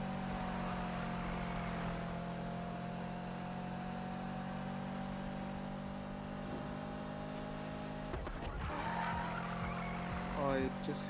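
A 1062 HP Corvette Z06 in the Need for Speed video game driven hard toward top speed, its engine holding a steady loud drone with a brief tire squeal and rough burst near the end.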